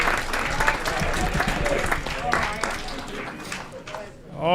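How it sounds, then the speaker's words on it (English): Applause at a city council meeting in Aurora for the second-place State of Illinois Special Olympics team, steady clapping from a crowd in a hall with voices mixed in, tapering near the end. "Another round of applause for our second place team"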